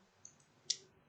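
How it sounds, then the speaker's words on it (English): Two faint, sharp clicks, a light one followed by a crisper one, in an otherwise quiet room. "I middle mouse click, or left mouse, right mouse click"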